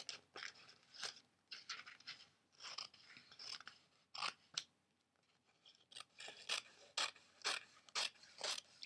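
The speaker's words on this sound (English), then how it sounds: "Now you're going to take your scissors and cut right around your quilt." Scissors snip around the edges of a paper quilt card front, making a steady run of close, crisp cuts in short bursts with brief pauses between them.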